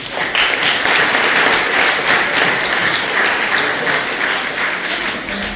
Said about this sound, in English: So just a quick round of applause for everybody.